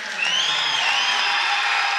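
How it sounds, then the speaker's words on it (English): A big, loud, packed crowd at a high school boys' basketball substate game roars steadily throughout, a dense continuous wash of cheering and voices with a few whoops rising above it. "Big, loud crowd."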